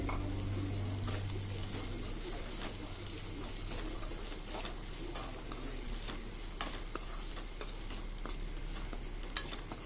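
Green peas sundal with grated coconut is stirred in a pan: soft, repeated scraping and light clicks over a faint continuous hiss, quiet and without talk.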